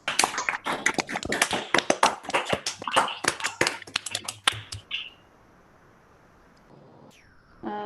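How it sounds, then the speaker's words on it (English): Applause from an audience after a scientific talk on a quasar search: dense, crisp clapping for about five seconds, then it cuts off sharply into near silence, with a brief faint sound at the very end. "If everyone can give you a round of applause."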